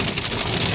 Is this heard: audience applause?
no